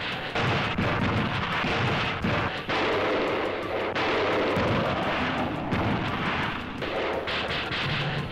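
Tank guns fire at Godzilla in the 1955 monster film, a dense, loud barrage of booming blasts and rumbling explosions that goes on without pause and is heard alone.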